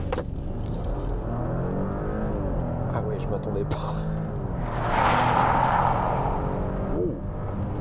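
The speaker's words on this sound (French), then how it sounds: "je vais vous faire une petite accélération, un petit 0 à 100." A 462-hp VW Touareg R launches hard from 0 to 100 km/h, its engine note swelling into a loud surge partway through while people talk in the cabin.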